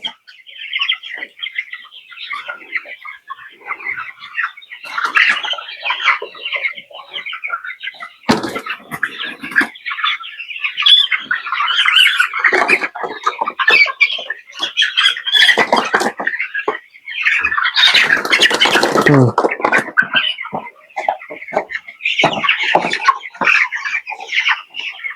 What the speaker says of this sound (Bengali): এই দিকতে 5টা মুরগি ধরো, এই দিকতে 5টা মুরগি ধরো